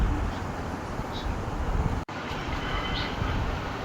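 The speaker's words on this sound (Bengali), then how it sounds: "এখন চলে আসছি কমলাপুর রেল স্টেশন, ঢাকা" Kamalapur railway station in Dhaka fills the air with a dense, steady wash of crowd and traffic noise, broken by one abrupt split-second dropout midway.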